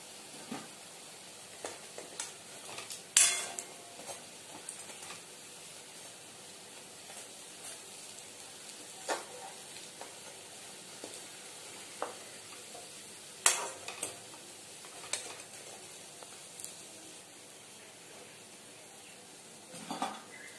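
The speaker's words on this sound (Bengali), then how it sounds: "আর একটু ভাজবো" Vadas frying in oil in a pan, a quiet steady sizzle with occasional clinks of a utensil stirring and scraping the pan, close and faint, no voices.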